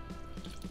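Lemon juice poured at a kumquat festival cooking demonstration gives a faint, brief trickle with a few soft drips, with no talk over it.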